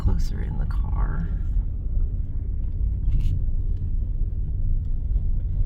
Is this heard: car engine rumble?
yes